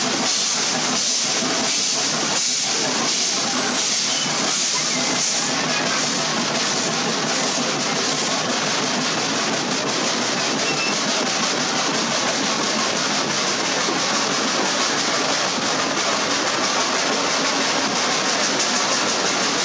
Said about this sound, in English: Listen to the engine as it goes up a mountain.